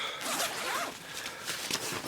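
Zipper on a day pack pocket being pulled open, a close, bright rasping run with a couple of quick strokes in quick succession.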